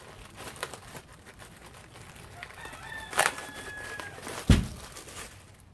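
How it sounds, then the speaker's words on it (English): A new motorcycle cylinder head is pulled out of its plastic bag with soft crinkling and two sharp tearing bursts, while a rooster crows faintly in the background. "Well, I'll just rip it out of the bag."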